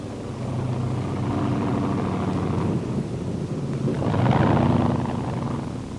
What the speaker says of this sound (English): Car 2 cut in with its sound of tanks moving into assembly